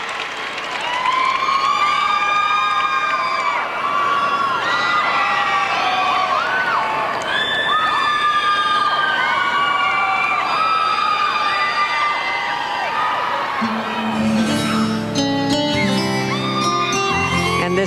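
An ice show arena crowd at a 1999 Champions on Ice performance cheers a male skater, a loud sustained roar of voices and whistles from a large audience, shifting into rhythmic clapping near the end.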